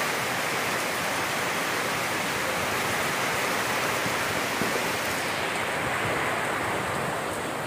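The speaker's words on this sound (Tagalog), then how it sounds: "Ang lakas ng hangin sa taas mahangin oh." Strong wind during Typhoon Kristine, a loud continuous roar of rushing air with no breaks, dense and steady throughout, with no talk.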